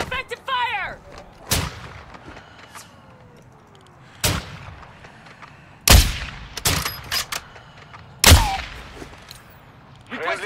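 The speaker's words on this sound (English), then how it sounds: "Taking effective fire." Heavy gunshots ring out in Call of Duty MW2 DMZ: four or five loud, booming reports spaced a couple of seconds apart, each with a ringing tail, over a quiet background with a brief voice.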